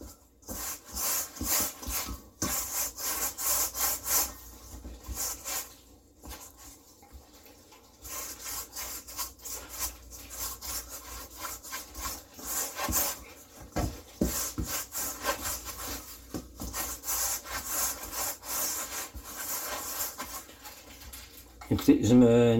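A baker scrubs and rubs sticky rye-and-wheat meslin sourdough off their hands, a steady close rasping and scraping that runs continuously with brief pauses, with talk in between.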